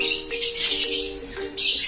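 Harsh, loud calls from caged birds, including opaline parrots, come in bursts, with a steady low hum underneath; several calls overlap close by.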